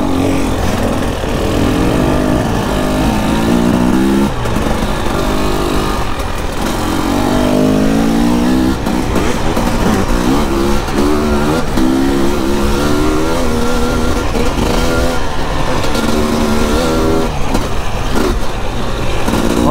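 A brand new 300 two-stroke dirt bike ridden off-road buzzes loudly and continuously, its engine note climbing and dropping in repeated revs as the throttle works, heard close up with no talk.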